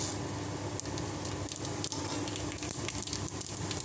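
Cumin and fennel seeds sizzle in hot oil for khichdi, a continuous, close crackling fry with fine spitting pops, steady and even throughout with no talking.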